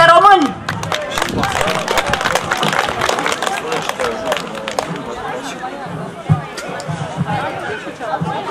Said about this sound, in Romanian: Vă rog aplauze pentru Suflet de Român!